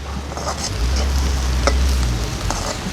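Crab stir-fry being stirred in a pan with tamarind for a village home meal, a steady sizzle under scraping and stirring strokes, close and fairly loud.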